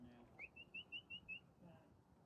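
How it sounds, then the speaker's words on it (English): A bird calling outdoors, a faint run of five or six quick, clear whistled notes in a row, heard at a distance over quiet background. "Yeah, there's a bird over here now."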